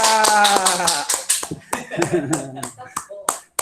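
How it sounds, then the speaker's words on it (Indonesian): Scattered claps from a class of students in a physics lesson on measurement and units, irregular and sparse slaps over a few seconds, mixed with voices talking and some tonal sounds at the start. "Tepuk tangan dulu deh untuk kalian semua yang luar biasa."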